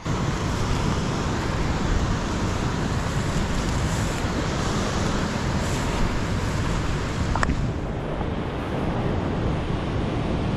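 Roaring floodwater released from a full dam in Queensland sounds like heavy surf: a continuous, dense rushing roar with wind buffeting the microphone. Nobody speaks.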